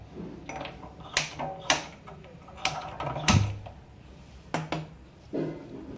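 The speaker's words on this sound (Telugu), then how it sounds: "స్టవ్ వెలిగించేద్దాం" Gas stove being lit in a home kitchen: a series of sharp mechanical clicks and knob clacks, one brief burst as the flame catches, then quieter handling sounds, close and fairly faint.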